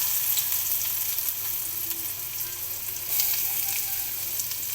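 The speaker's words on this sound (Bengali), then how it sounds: "এর জন্য আমি একটা কড়াইতে তেল দিয়ে দিয়েছি। এখন এর মধ্যে দিয়ে দিব হচ্ছে আমি পেঁয়াজ কুচি" Chopped onions sizzle and fry in hot oil in a wok, a steady dense crackle with brief louder bursts, close and continuous with no talking.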